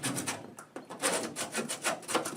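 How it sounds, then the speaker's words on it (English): Rapid scraping and rasping as burrs are filed off the edge of a metal gasket flange, close and steady with brief pauses between strokes. "But I just want to make sure I get all the burrs off."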